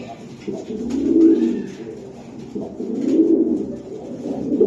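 Racer pigeons cooing nearby at a pigeon sale: two swelling, throaty coo bouts a couple of seconds apart, fairly loud over a low background murmur.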